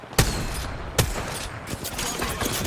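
Gunfire in the Apex Legends video game: two sharp, loud shots about a second apart, followed by a scatter of quieter, more distant shots.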